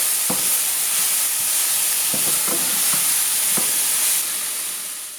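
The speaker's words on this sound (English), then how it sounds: "Now we're going to throw the peppers, onions, and garlic into the pan and saute them" Peppers, onions and garlic sauté in butter in a hot pan, a steady broadband sizzle running throughout with a few soft clicks of stirring scattered across it.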